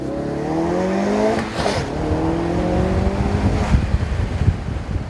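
A car engine revs and accelerates up close, pitch climbing in repeated surges with a gear change partway through.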